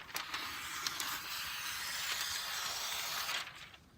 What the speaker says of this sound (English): I'm letting the scissors slide in and cut the paper that way